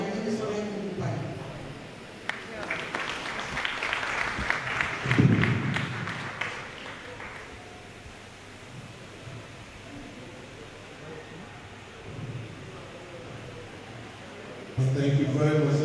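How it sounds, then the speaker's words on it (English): Conference audience applauding during a civil society and parliament gathering in Freetown, Sierra Leone; a broad wash of clapping swells early, then fades to a low murmur of room noise before a brief renewed burst at the end. "Let's applaud one more time."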